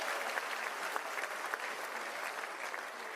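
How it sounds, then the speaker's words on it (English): An audience applauding a speaker at an event, a steady, full round of clapping from a crowd that holds evenly throughout. "give him a round of applause"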